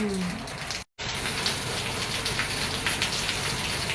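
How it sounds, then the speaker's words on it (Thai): Steady, dense rain pattering down on surfaces, loud and constant, with a brief cut to silence near the start. "ฟังเสียงฝนแล้วมีความสุขค่ะ"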